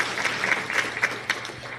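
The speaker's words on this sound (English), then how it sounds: "I'd like to give them a round of applause for the hard work that they're doing" Audience applause at a health equity and social justice talk, a moderate patter of clapping from a seated crowd with a faint steady hum underneath, no voices over it.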